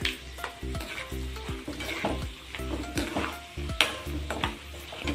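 Dried red chillies fry in hot oil for a tempering for lemon and mango rice, a loud close sizzle broken by a steady rhythm of spoon scrapes and clinks against the pan.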